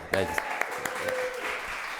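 Audience applause for Gustavo Arellano continues as a soft, steady wash of clapping with a few sharper claps near the start, while a voice speaks over it.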